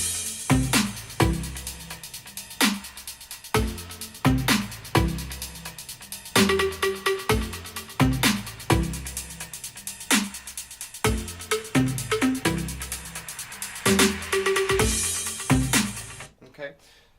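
A sampled hip-hop beat with punchy kicks, snares and a short melodic loop repeats in steady rhythm at moderate loudness, cutting off near the end.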